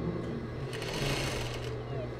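A sewing machine runs a long basting stitch along the edge of a blouse fabric, giving a steady close mechanical whir and rapid needle clatter, with a voice talking over it.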